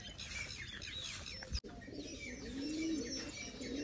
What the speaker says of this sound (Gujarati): આપણે સૌથી પહેલાં આવડો કબૂતર પકડ્યું છે